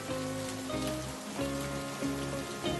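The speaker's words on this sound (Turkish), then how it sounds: "Arnavut kaldırımı taşların üzerine düşen yağmur damlalarının sesini dinledi" Steady rain patters on cobblestones, a dense wash of drops with soft rhythmic swells, close and fairly quiet.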